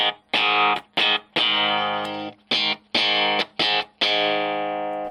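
Fender Cyclone electric guitar played clean without distortion, a series of strummed chords with bright ringing harmonics, each struck sharply and left to sustain before the next, loud and close with no talking.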